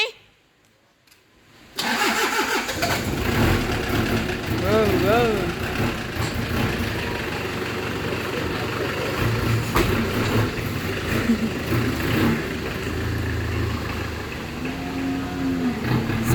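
A pickup truck engine cranks and catches after a brief silence, then settles into a steady mid-pitched idle at close range while a voice speaks over it.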